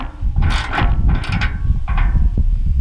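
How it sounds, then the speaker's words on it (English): A ratcheting gear wrench tightens bolts on a hitch rack being fitted to a KTM hauler, giving loud, close mechanical clicking bursts in quick runs with brief pauses, heard alone without talk. "the gear wrench."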